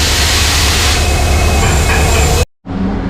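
A WDP4 diesel locomotive idles at Guwahati railway station with a loud, steady engine rumble. It cuts out abruptly for a moment, then resumes more quietly.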